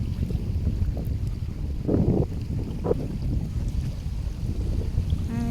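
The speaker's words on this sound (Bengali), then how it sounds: "যে কতটা বাতাস জোরে বাতাস হইতেছে" Strong wind on a riverbank buffets the microphone in a constant low roar, with a few brief gusts and rustles rising over it.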